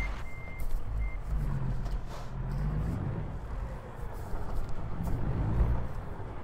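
A Peterbilt truck hauling an excavator in American Truck Simulator gives a couple of brief reversing beeps over a low, continuous diesel rumble.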